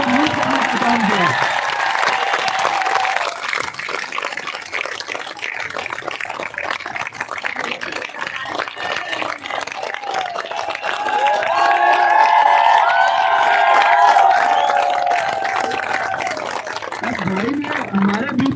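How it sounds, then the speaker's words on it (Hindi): Sustained crowd applause and cheering fill the whole stretch at a nurses' protest rally in India, steady and loud, with voices mixed into the noise. "एक बार जोरदार तालियां रुकनी नहीं चाहिए"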